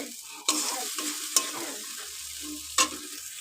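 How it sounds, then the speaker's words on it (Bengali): Soft sizzling of spices frying in a pan, broken by three sharp scraping clacks of a spoon stirring against the metal. "এই যে মশলাটা আমার ভাজা হয়ে গেছে খানিকটা হয়েই এসছে"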